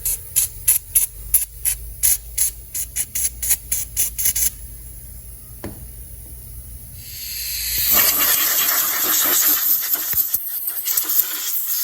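Cleaner sprayed onto a dirty Makita EB7660TH backpack blower engine: a run of sharp, evenly spaced spray bursts up close, then a quieter pause and a long, steady hiss of continuous spraying.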